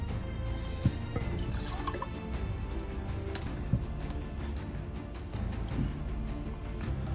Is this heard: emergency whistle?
no